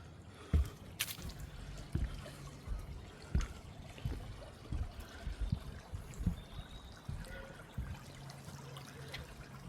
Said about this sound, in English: It seems I'm right close to a river, or at least a waterway of some sort.